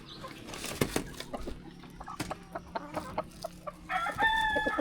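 A flock of Rhode Island parent stock chickens, white hens and red roosters, cluck steadily at close range, with occasional wing flaps and a brighter squawk near the end, and no talking.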